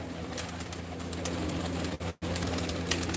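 Pigeons coo softly and steadily in a loft of colourfully painted birds kept by a pigeon fancier, a low continuous murmur with a brief dropout near the end.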